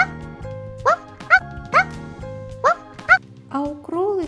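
A string of short, high yips from a small dog, about five sharp barks followed by a longer whiny sound, over a steady background tone.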